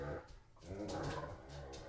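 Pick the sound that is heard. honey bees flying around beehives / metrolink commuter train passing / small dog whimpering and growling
small dog whimpering and growling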